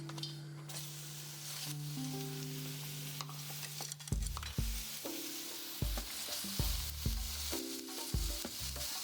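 Mushrooms fry in a good amount of hot oil for a Taiwanese-style fried snapper dish, a steady sizzle broken by clacks and knocks of stirring, alongside a sustained low hum.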